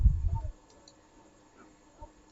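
A couple of soft mouse clicks sound in a quiet room during spreadsheet work in Excel, one brief click midway and another at the very end, after a low murmur at the start.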